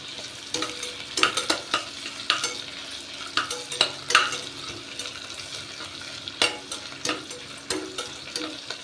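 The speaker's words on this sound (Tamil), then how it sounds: "கொஞ்சம் வதங்கட்டும்" Ingredients for white birinji rice sauté in a pan with a soft continuous sizzle, while a spoon scrapes and clinks against the pan in irregular stirring strokes, close and fairly loud.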